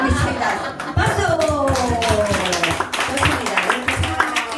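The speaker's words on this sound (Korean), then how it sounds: "박수" A group claps in a steady rhythm at a community association gathering, sharp repeated claps keeping time beneath voices singing and chanting together, with light laughter mixed in.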